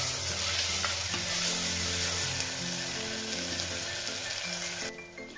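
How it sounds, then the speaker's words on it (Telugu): Ginger garlic paste fries with onion and green chili in a pan while being stirred, a steady close sizzle throughout with scraping stir strokes, cutting off abruptly near the end. "మనకి ఆనియన్, పచ్చిమిర్చి బాగా వేగాక ఒక 2 tablespoon జింజర్ గార్లిక్ పేస్ట్ వేసుకుంటున్నాను"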